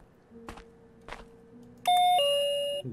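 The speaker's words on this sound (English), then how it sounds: "Wow, that's a loud doorbell." Loud electronic doorbell chime in the video game Missing Children, two bright sustained tones ringing out clearly after a couple of soft footstep-like thuds, with no talk over it.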